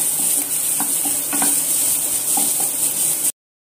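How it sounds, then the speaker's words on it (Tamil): Onions sauté in a pan until golden for carrot rice, giving a steady bright sizzle with occasional scrapes and stirring clicks, close and continuous before cutting off abruptly. "ஒரு கப் வெங்காயம் ஆட் பண்ணிக்கலாம். நல்லா பொன்னிறமா வதக்குங்க."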